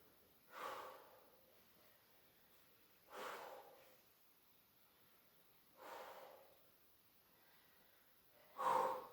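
Steady breathing during a stretching exercise, heard as four evenly spaced, fairly close breathy exhales or sniffs roughly every two and a half seconds, with quiet gaps between them.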